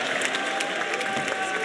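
A boxing crowd gives steady, dense applause for boxer Kristaps Zutis, a brief unbroken wash of clapping with faint cheering.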